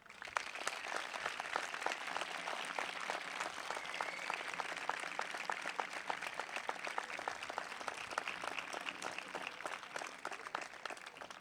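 An audience at a medieval-week proclamation in Montblanc breaks into sustained applause, a steady dense patter of many hands clapping that carries on evenly at moderate distance.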